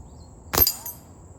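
An old Crosman air gun pellet strikes a steel dual spinner target, one sharp metallic crack with a brief ringing tail, close and alone against quiet background.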